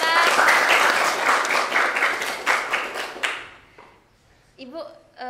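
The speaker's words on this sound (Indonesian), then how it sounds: "Tepuk tangan dong buat Ibu Sinta." A studio audience at a campus Islamic talk show applauds a guest speaker, a loud dense burst lasting about three seconds before fading, followed by a voice starting to talk.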